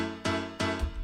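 Rich chords from a layered Ableton Grand piano plugin struck three times at a steady pace, each sustaining warmly into the next, played alone without voices.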